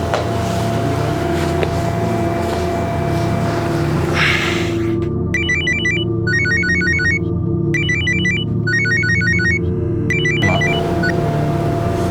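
A telephone rings in a repeated electronic trill, several bursts of double rings back to back over a low steady room hum, loud and close, with no voices.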